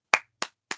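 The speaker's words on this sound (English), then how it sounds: "I can still clap my thighs." Three sharp, close slaps of hands on thighs land at an even pace, each one crisp and quickly decaying, with no talk.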